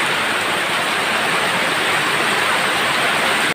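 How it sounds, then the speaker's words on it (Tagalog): Heavy morning rain pours down in a dense, continuous hiss, loud and close, with no voices over it. "Yan, lakas ng ulan guys, diba?"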